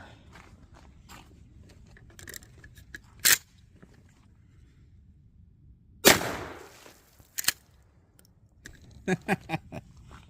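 A Remington 870 Express .410 shotgun fires a slug outdoors, a single sharp loud report standing out from a quiet background of light footsteps and scattered handling clicks.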